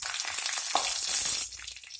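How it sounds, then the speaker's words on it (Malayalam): Mustard seeds sizzle in hot oil in a pan, a loud, steady hiss that eases off toward the end, with no talk. "എണ്ണ ചൂടായിട്ടുണ്ട്. അതിലേക്ക് കടുക് ഇട്ട് കൊടുക്കാം."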